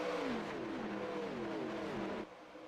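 Several vintage race cars at Daytona in iRacing roar together as they accelerate, their engine notes climbing in overlapping sweeps, loud and continuous before dropping off slightly near the end.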